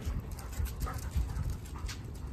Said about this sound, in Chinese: 他家有一只狗。